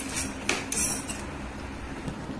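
A metal spoon taps and clinks against a glass in a few sharp, bright strikes spaced irregularly, close and fairly loud over a quiet room background.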